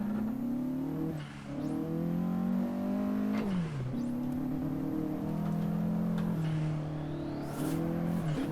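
A Vauxhall VX220 (Opel Speedster), the non-turbo variant, revs steadily in Assetto Corsa: a loud, continuous engine drone with rising and falling pitch as it accelerates and shifts, alone throughout.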